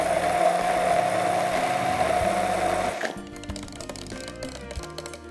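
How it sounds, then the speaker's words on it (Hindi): Electric blender whirring through watermelon juice: a steady, loud motor drone that runs and then cuts off abruptly, followed by clinking and handling sounds. "जो जूस है वो बेहतरीन तरीके से ब्लेंड हो गया।"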